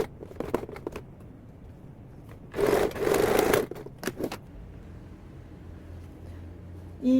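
A domestic sewing machine runs in one steady burst of stitching of about a second, sewing a straight seam on a fabric pocket bag. Quieter handling and fabric rustle come before and after it.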